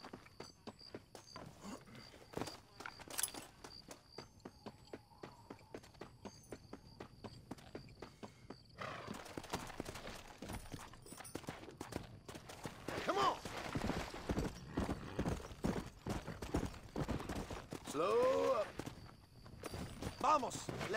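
Hooves clip-clop in a steady rhythm that speeds into a gallop, with voices talking over the hoofbeats and a horse snorting, in the video game Red Dead Redemption on PS4.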